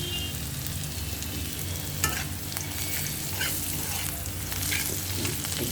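Thinly sliced onions fry in oil with a steady, close sizzle and a few stirring scrapes, continuous and fairly quiet, with no talking.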